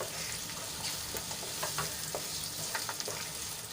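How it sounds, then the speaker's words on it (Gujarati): Onions frying in a pan until browned give a steady close sizzle with occasional stirring scrapes, and no voices are heard. "તો ડુંગળીને આપણે લાલ થાય ત્યાં સુધી એને ફ્રાય કરી લઈશું"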